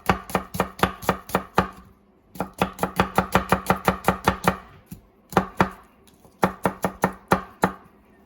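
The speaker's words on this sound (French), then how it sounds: "Pendant que les saucisses cuisent, coupez l'oignon fine lamelle." A knife slices an onion thinly on a cutting board for sausage rougail, giving three rapid runs of crisp, evenly spaced chops with brief pauses between them, close and clear.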